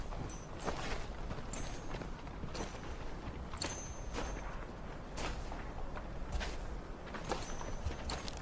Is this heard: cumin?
no